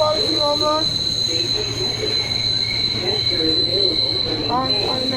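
Steady rumble of a train rolling along the rails, with a constant high whine and occasional wheel squeals, heard from inside a carriage.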